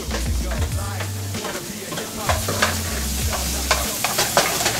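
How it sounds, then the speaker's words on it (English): Peppers sizzling in a skillet over high heat, a steady frying hiss with scraping stirring strokes and occasional clinks, fairly close and clear. "Now, I'll put my peppers in there."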